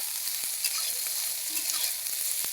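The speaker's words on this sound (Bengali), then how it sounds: "সয়াবিনটা বেশি ভাজবো না," Soya chunks fry gently in oil in a pan for a vegetarian potato curry, a soft steady sizzle with a few light stirring taps, quiet and close.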